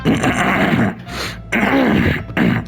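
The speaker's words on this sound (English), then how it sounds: "Clear my throat." A person clears their throat close and loudly in three rough, gravelly bursts separated by short pauses.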